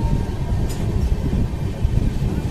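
The Saket Express rolls through the Kasara Ghat, heard from near the open door of a crowded coach as a steady, loud, low rumble of wheels and carriage noise with no talk.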